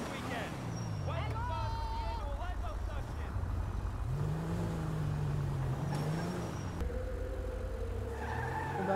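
A car in the video game GTA 5 drives with a steady, loud engine drone throughout, broken by rising and falling tire squeals as it skids, while a voice talks over the game sound.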